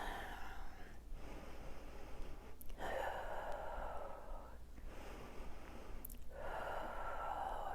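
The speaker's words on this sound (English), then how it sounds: "Usually by 3 good breaths," Deep, slow breaths during a rest between frozen shoulder exercises, with long inhale and exhale swells repeating in a steady rhythm, close and soft with no talking.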